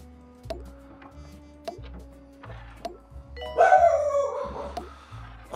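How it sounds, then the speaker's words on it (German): A dog in the Two Point Hospital video game barks in a short loud burst against a quiet background of regular electronic chimes and soft game sounds. "nur um den Hund zu ärgern, damit er bellt"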